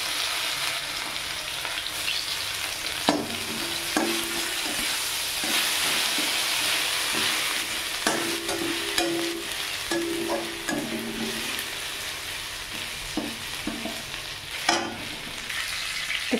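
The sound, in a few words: chopped ginger frying in a pan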